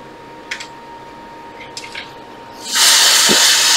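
Freeze spray blasts onto an iPhone 7 logic board during a short-circuit diagnosis, a loud steady hiss that surges in near the end after a few faint clicks and handling noises.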